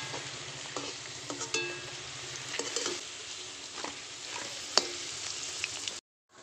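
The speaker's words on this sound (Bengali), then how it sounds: "বন্ধুরা দেখুন আলুগুলো আমি লাল লাল করে ভেজে নিয়েছি।" Potatoes fry in oil with a steady, moderate crackle and sizzle broken by occasional utensil scrapes and taps, and the sound cuts out abruptly just before the end.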